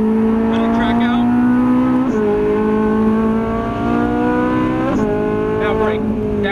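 A Ferrari 458 Italia engine revs hard on a race track, loud and close from inside the car, rising in pitch and dropping sharply at each gear change, with an instructor's voice audible over it.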